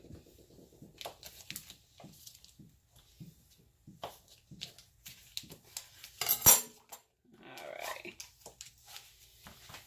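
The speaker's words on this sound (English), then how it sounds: "we're just gonna mix it and melt that butter up in there" A utensil stirring butter in a pot to mix and melt it for baked mac and cheese, giving intermittent close scrapes and clinks of metal against the pot, with one sharper clank midway.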